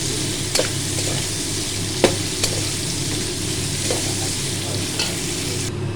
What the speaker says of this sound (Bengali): এবার আমি কিছু ড্রাই ফ্রুট গরম জলে ভেজানোই ছিল, এগুলো ভেজে নেব